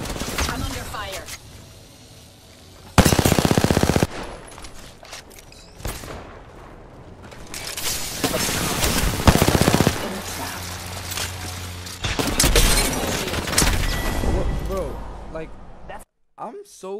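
Video game gunfire in bursts across the stretch, loud blasts of shots separated by quieter gaps, with a person talking over the action at times.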